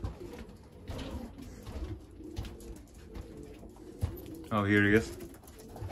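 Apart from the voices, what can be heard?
pigeons cooing in a loft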